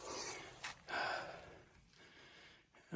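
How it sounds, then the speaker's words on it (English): Close, breathy sniffs and nasal intakes of air from a person outdoors in below-freezing snow, a few short snorts in a row, fairly quiet with no talking. "Sorry for the sniffing, folks. It is cold."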